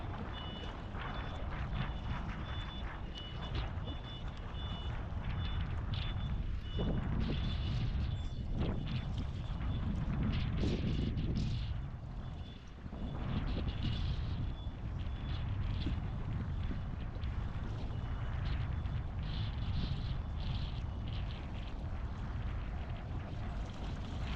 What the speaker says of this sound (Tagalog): Hangin po kasi, nakasang mahangin.